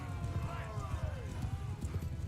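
Horses gallop in the fantasy battle game Mount & Blade II: Bannerlord (Old Realms mod), a dense run of hoof clip-clop with a neigh or whinny over it, under speech.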